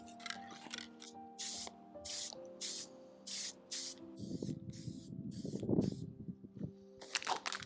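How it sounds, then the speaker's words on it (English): Brown mahogany lacquer toner is sprayed onto a burned card table during restoration in repeated short hissing bursts about every half second. It is close up, with a rougher rubbing stretch partway through and no talk. "I'm gonna use a little bit of brown mahogany lacquer toner."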